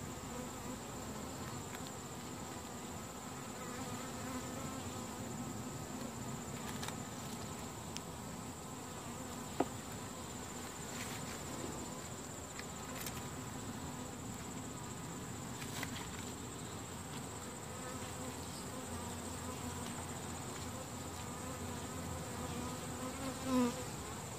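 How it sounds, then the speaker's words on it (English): Honeybees in an open, healthy hive full of brood make a steady, dense buzz with a constant hum that holds at an even level throughout. No one speaks. "This is a healthy hive."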